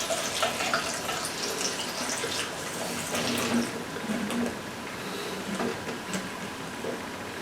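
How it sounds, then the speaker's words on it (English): Liquid drains steadily from strained apples for apple moonshine, a constant close splashing and trickling wash of water with no speech. "we're going to strain these apples out"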